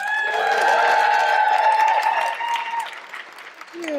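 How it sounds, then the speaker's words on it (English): A comedy show audience claps and cheers, with the applause swelling and then fading over a few seconds while voices and speech rise through it. "Thank you, white people, for clapping."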